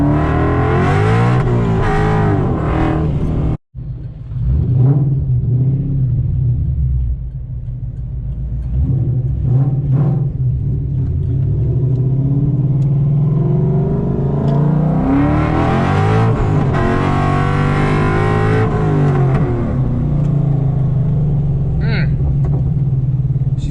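A car engine revs repeatedly on cold pavement, loud and close, with a steady idle rumble between several sharp rising and falling revs and a brief cutout early on.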